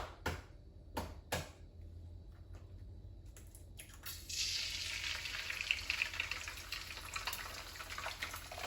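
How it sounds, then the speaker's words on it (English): A few sharp clatters, then a bright, steady sizzle of an egg frying in a pan rises and continues, close and crackling. "Got my egg in. Got it frying up."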